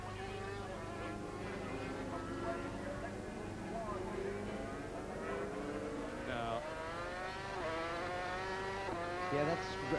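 A 500cc Grand Prix motorcycle, ridden by Roger Burnett during 1987 Saturday practice at Donington Park, screams down the main straight from an onboard view, its engine note climbing and dropping through gear changes. A voice talks over the engine throughout.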